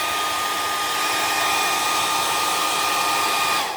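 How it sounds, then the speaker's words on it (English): A hair dryer blows steadily at close range, a constant loud whoosh with a faint whine, running without pause. "you can use a hair dryer and just hold it right above like"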